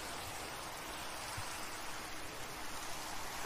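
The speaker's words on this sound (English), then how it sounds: "Oh, great, it's raining." Rain falling in the video game Minecraft: a steady, even hiss of rainfall, continuous and moderately quiet, with no voices.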